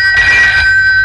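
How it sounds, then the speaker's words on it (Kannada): A telephone rings in a Kannada comedy drama film, a single short burst of bright electronic ringing tones, loud and close, with no talk over it. "ಫೋನ್"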